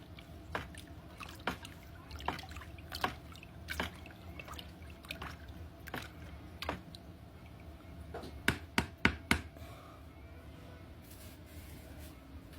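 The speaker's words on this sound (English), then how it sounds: "Let's add it to the mash. Stir it up real good." Yeast is stirred into a moonshine mash, giving quiet sloshing and swishing of liquid with intermittent knocks and clicks against the container, louder and more rapid near the end.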